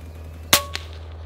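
A single sharp airgun shot rings out in a farmyard during pest control, a long-range Panthera airgun shot, followed a moment later by a fainter impact crack, over a steady low hum.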